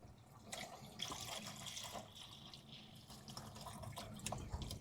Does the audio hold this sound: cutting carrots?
no